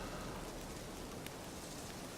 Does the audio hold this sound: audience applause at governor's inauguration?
no